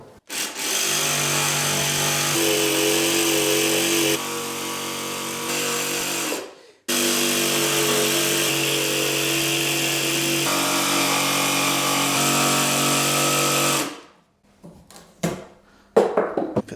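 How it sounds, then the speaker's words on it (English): A jigsaw cuts a notch in timber for a DIY alcove bed, two long loud buzzing runs with a brief pause between, the pitch shifting slightly as the blade works, ending in a few knocks. "What will you cut them with? Jigsaw, probably."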